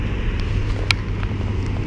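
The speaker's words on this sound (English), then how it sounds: "So windy." Steady low rumble of wind buffeting the microphone, with a brief sharp click near the middle and no voices.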